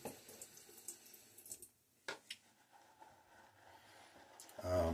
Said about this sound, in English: Go ahead and start adding some water.